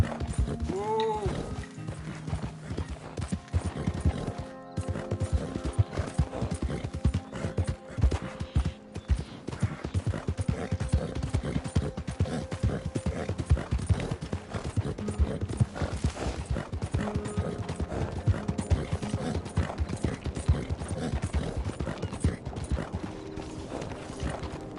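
Horse hooves clip-clop steadily in Red Dead Redemption 2, a continuous rhythmic trot up close alongside in-game music and effects, with occasional whinnies and speech in places.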